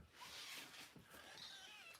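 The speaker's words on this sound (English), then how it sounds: "You hear his little meow." A small kitten lets out a few thin, high-pitched meows close by, with a short cry near the start and a longer, wavering one later, set against faint room noise.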